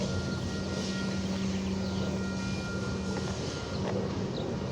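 A train passes a 15th Avenue crossing, its broad, constant rumble steady and loud with a low sustained hum and faint high squeal, no voices.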